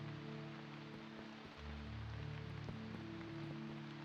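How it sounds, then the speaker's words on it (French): Steady rain falls in the video game Eastward, a dense even hiss of drops on surfaces beneath low droning game music, with no speech. "Encore de la pluie."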